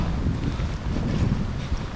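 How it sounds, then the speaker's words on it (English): Strong wind buffets the microphone outdoors by a brook during a snowstorm, a loud continuous rumble with gusty swells and no voices. "It's quite windy"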